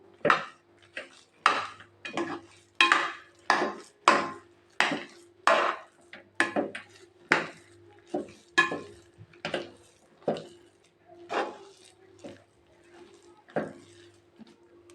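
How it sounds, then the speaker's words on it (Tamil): A spoon repeatedly scraping and knocking against a pot while stirring sweet pongal, about twenty regular strokes roughly every half second to second, close and distinct, slowing and softening toward the end. "இதை நல்லா ஒரு 2-3 டைமு நல்லா கிண்டி விட்டுக்கலாங்க"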